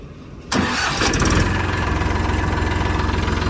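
An Eicher 380 2WD tractor engine cranks and catches, then settles into a loud, close, steady diesel idle with an even rhythmic knock, heard alone without voices.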